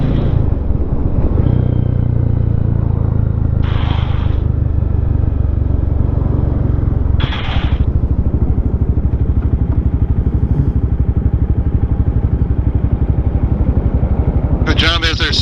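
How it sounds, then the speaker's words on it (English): A Honda CBR 500R motorcycle rides close by on the road, its engine blending into a loud, steady roar of motorcycle engine and wind rumble. People talk over the noise throughout. "The bike on our right here is a CBR 500R."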